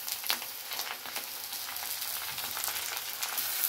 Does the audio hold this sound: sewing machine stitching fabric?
no